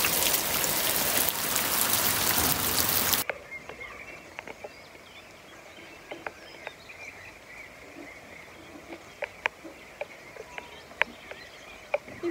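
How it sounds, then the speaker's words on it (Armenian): Heavy rain hisses down on a garden, then abruptly drops to a quieter patter with scattered drips and faint birds. "չգիտեմ որտի այս անձրևը վրա կալավ"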